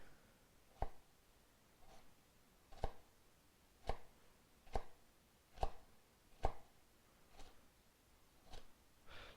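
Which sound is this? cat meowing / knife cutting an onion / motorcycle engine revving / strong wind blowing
knife cutting an onion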